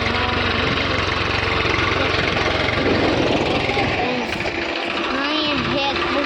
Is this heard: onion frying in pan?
no